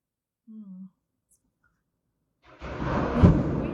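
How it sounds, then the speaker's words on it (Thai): After a brief faint tone and a moment of silence, a deep, broad rumble of thunder rolls in during rain at home. It swells and stays loud to the end. "เสียงฟ้าร้องดังมากเลยอะ่ะ"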